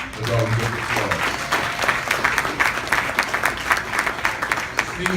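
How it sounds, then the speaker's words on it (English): Guests at a charity luncheon in New York give a round of applause, with a crowd of hands clapping steadily, a brief bit of speech at the start and more talk resuming at the end. "Give them again a round of applause"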